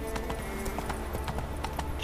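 Horse hooves clip-clop in The Witcher video game, a steady trotting rhythm of sharp hoof strikes over a dense background of game music and ambience.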